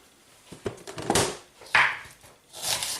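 A knife cuts the core out of an onion on a cutting board. Several crisp crunches and slices come close up over about three seconds, separated by brief pauses.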